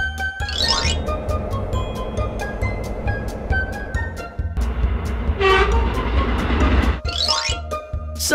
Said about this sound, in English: Inner-city train.